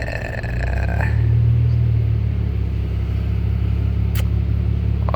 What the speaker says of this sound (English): So give it a little blip, a little rev, and yeah.